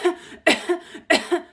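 A person without illness imitates a dry cough, giving three short, sharp, close coughing bursts in even rhythm, each followed by a smaller catch, with no talking.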